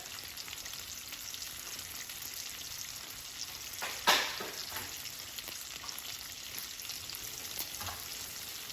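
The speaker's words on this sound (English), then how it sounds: "while we're waiting on the bacon to cook" Oscar Mayer original bacon sizzles steadily in a pan at moderate distance, a faint even crackle with one louder clatter midway, no talking.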